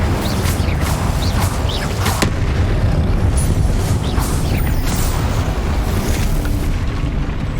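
Roaring burst of the Incendio fire spell in the video game Hogwarts Legacy, a loud, continuous crackling rumble with sharp pops and booms throughout, no talking over it.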